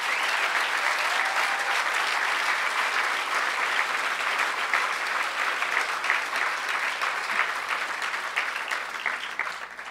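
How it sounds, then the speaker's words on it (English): Steady, dense audience applause at a hacker conference, a large crowd clapping continuously and loudly for the full ten seconds with no pause. "So I think we should give a round of applause to Emmanuel and 2600."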